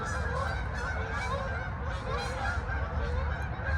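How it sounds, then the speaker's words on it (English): A flock of geese honks steadily and continuously, a dense chorus of overlapping calls at moderate distance with no pauses. "You hear the geese?"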